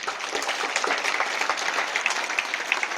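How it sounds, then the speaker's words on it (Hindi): Students and staff clap at a Jawahar Navodaya Vidyalaya school assembly in India to honour the team behind the exam results, a brisk, crackling burst of many hands, close and lively throughout. "एक बार उनके लिए तालियां बजनी चाहिए।"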